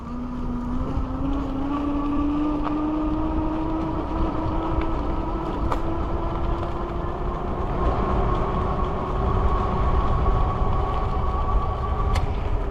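A Rad Mini folding 750W e-bike runs at full throttle, a steady rising electric motor whine that climbs gradually in pitch over heavy road and wind rumble, continuous and close.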